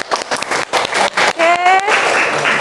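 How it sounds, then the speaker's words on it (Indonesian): Classroom applause, a short run of rhythmic clapping from students, close and choppy in bursts, with a voice calling out over it. "Kita beri tepuk tangan ya."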